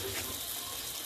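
Water rinses a red Honda CB650R motorcycle, a steady broadband splashing rush from a gentle stream, close and continuous, with no talking.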